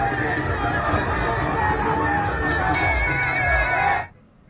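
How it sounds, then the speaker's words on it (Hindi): Large crowd at a political road show in Amethi with Amit Shah, a dense roar of cheering and shouting voices held steadily loud before cutting off abruptly near the end. "रोड शो के दौरान बड़ी संख्या में लोगों की भीड़ दिखी"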